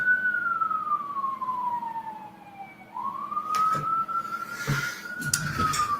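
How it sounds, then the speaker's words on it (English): An emergency siren wails and slowly sweeps in pitch, with traffic rumble and short bursts of noise around it, heard from a moderate distance outdoors. "I can hear the sirens going on right outside"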